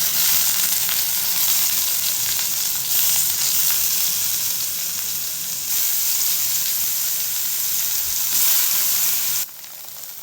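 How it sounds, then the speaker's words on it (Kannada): Paneer fries in ghee in a pan with a loud, steady sizzle and hiss that runs throughout, then drops off abruptly near the end. "ಸ್ವಲ್ಪ ತುಪ್ಪ ಹಾಕಿ ಫ್ರೈ ಮಾಡ್ಕೊತೀನಿ"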